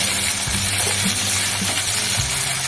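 Turmeric and other spices sizzle in a frying pan with tomato, a loud steady hiss of frying that fills the short stretch without pause.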